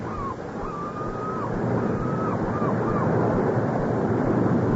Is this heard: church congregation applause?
no